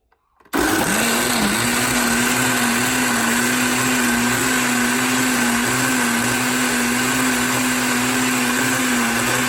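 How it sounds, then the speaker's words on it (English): A blender starts abruptly on black beans and runs at a steady, loud, high-pitched whir, grinding continuously without pause through to the end. "So I'm going to get ready to start the blender."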